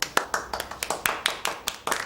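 Scattered handclaps from a small group, a dozen or so sharp claps in an uneven rhythm, close and fairly crisp with no talking over them.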